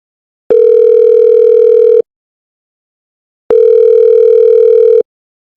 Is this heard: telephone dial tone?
yes